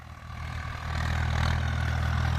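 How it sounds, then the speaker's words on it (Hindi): A Swaraj 855 tractor engine with a new pump idles with a deep, steady rumble that swells slightly louder after the first second, close by with no voices. "अगर ये ट्रैक्टर ये मान के चलो कि यहां चल रहा होगा, इसका रड़ाका इतना तगड़ा है"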